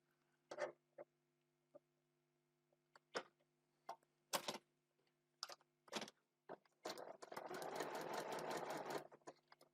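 A sewing machine makes short, separate bursts of a few stitches each while foundation-paper-piecing a tiny heart, then runs a longer steady seam near the end, close and fairly quiet.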